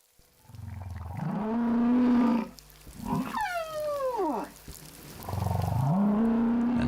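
Humpback whales off Rurutu singing underwater: long rising and falling moans alternate with a swooping, descending chorus of tonal cries, loud and close, with no talk.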